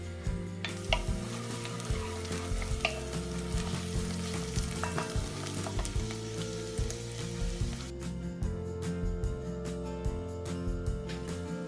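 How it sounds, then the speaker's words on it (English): Onions fry in a pan with a steady, lively sizzle, stirred now and then with scraping, clattering utensil strokes that come in irregular bursts, close by and without any talking. "we're going to leave those onions cook now for about 10 minutes, and they'll go nice and brown"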